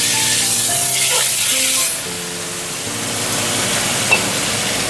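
Bata fish dropped into hot oil, bursting into a loud, close sizzle that settles into a steady hiss of frying, with a faint musical tone underneath.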